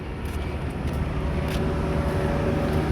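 A car driven slowly during a driving lesson, its engine a steady low rumble heard from outside, continuous and fairly loud with no talk.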